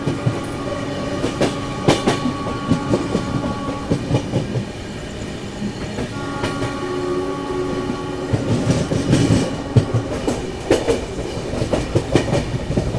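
The New Delhi Prayagraj Humsafar Express runs on the Kanpur–Prayagraj main line, with loud rhythmic clickety-clack of wheels over rail joints, steady rumbling and a horn-like tone.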